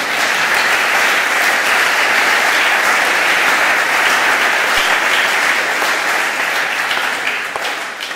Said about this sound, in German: Könnten Sie mal Beifall klatschen,